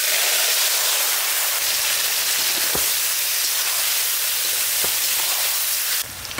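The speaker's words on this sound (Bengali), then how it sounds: "দেখে যা ছাতু কি সুন্দর ভাজিছি" Fresh wild jungle mushrooms fry in a pan with a loud, dense, continuous hiss and sputter. A couple of sharp pops sound close by, and no one speaks.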